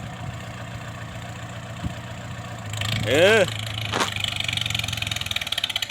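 A tractor engine idles with a steady low throb, then revs up briefly around the middle before settling back to a pulsing idle, with a short spoken interjection over it.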